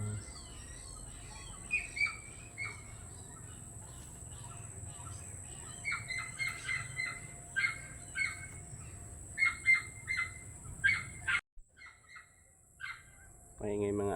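A barred rail calls at dusk in the Philippine countryside, a series of short, sharp, repeated chirping notes at moderate distance, arriving in irregular bursts over a faint hum, with a brief cut near the end.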